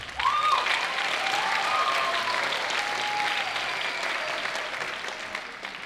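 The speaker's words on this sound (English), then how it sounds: "Another round of applause." An audience applauds at a high school band's spring concert, honoring the band's first-place finish: a dense, sustained round of clapping that stays loud and even throughout, with a faint tonal whine sliding underneath and no one speaking.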